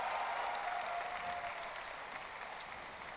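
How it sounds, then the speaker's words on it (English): Audience applause at the OnePlus 6 smartphone launch event, a dense, sustained patter of many hands clapping in a large hall, fairly distant and even, fading slightly toward the end. "So give yourself a round of applause for being here."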